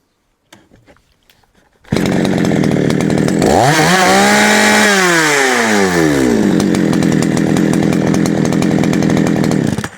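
Chinese-made petrol chainsaw starting up after a short quiet stretch, then running loud and steady with the engine revving up and back down before settling into a continuous high idle, close by with no talking.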